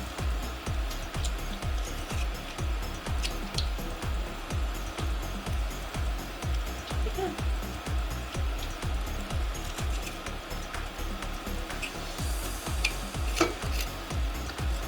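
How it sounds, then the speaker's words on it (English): Shallots cooking in a hot pan while making a sweet and tangy BBQ sauce, with a steady low sizzle and a repeated rhythmic scraping or pressing through the whole stretch, close and moderately loud. "I'm going to press these right into my pan."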